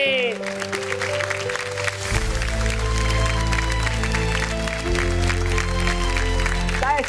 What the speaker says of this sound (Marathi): जोरदार टाळ्या होऊन जाऊ दे